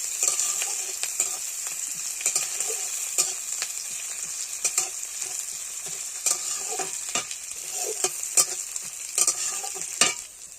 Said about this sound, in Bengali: মাছ ঝোলের জন্য পেঁয়াজ আর ঝালটা ভালো করে ভেজে নেবো